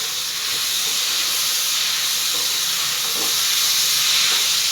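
Tomatoes sautéing with onions in a pan for thakkali thokku, a loud, steady hiss of sizzling oil and steam that holds evenly throughout, with no speech.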